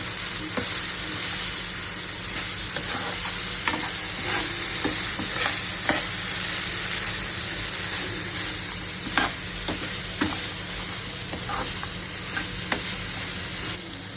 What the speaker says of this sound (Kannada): ಅದಕ್ಕೆ ಇವಾಗ ಸ್ವಲ್ಪ ಗರಂ ಮಸಾಲ ನೀಟಾಗಿ ಮಿಕ್ಸ್ ಮಾಡ್ಕೊಳ್ಳೋಣ.